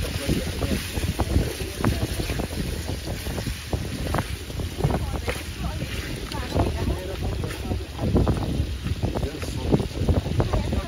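Strong wind buffets the microphone at a rocky beach in Malta where pork is cooking outdoors, a continuous rough roar with gusty surges and a voice talking intermittently underneath.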